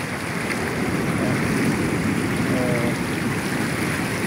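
Strong waves wash steadily onto a debris-strewn shore after rain, a continuous loud roar of surf with wind buffeting close to the microphone and no pauses.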